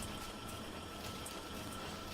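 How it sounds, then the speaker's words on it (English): In the Factorio video game, water is pumped steadily as a continuous, even rushing and gurgling liquid flow that stays close and constant for a couple of seconds, with no talk over it. "So now we are pumping water and petroleum gas in there"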